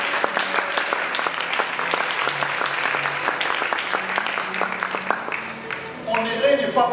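A church congregation applauds the Lord, with sustained, dense clapping that fills the room over a preacher's voice, before the applause thins out near the end.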